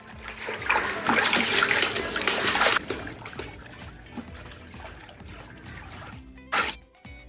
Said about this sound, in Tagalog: ang una kong gagawin ay hugasan ng mga karne